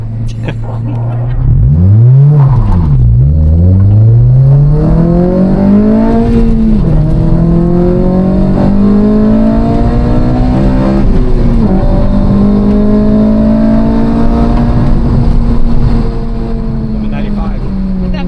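A Honda Civic Si with a K24 engine swap revs hard several times, climbing and falling in loud, close sweeps before holding a high, steady rev, while people talk over it.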